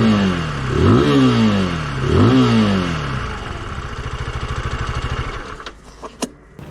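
Dayang DY 200 motorcycle with a 125cc single engine revs twice in rising sweeps, then settles into a rapid, steady idle chatter that fades out, loud and close with no talk.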